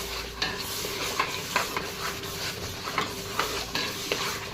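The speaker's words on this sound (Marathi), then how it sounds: "तर आता हे छान मसाला परतवून घेऊया" Chole masala spices sautéing in a pan: a steady low sizzle with repeated scraping spatula strokes every half second or so, close and fairly quiet, no voices.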